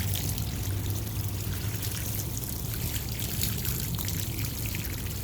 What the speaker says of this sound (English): Garden hose will work just fine.